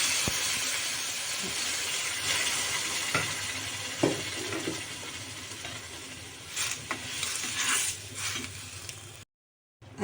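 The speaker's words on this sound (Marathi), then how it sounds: "गावरान वांग्याला आपली चांगली उकळ आलेली आहे" A pot of curry boiling with a steady hiss and soft bubbling, a few sharp clicks and clatters, then a sudden silence just before the end.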